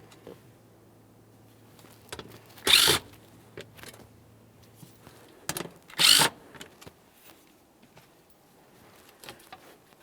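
Bolts are worked out of the protective cover under a 2006-2012 Ford Fusion, heard as two loud, short bursts of a power tool a few seconds apart, with faint clicks and handling noise in between.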